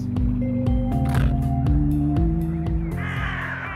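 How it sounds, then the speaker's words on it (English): Blackbirds cawing in the video game Little Misfortune, a series of loud, close, harsh caws one after another over a sustained low musical drone. "Freaking blackbirds."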